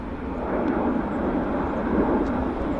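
An airplane arriving at Vancouver Airport gives off a steady, moderately loud broadband jet roar that holds evenly from a distance, with no voices.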